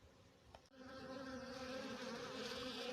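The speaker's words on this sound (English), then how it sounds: "Some of these bees" Honey bees at a beehive hum in a steady, swelling buzz. The swarm stays quiet but continuous, with no voices, after a faint tap near the start.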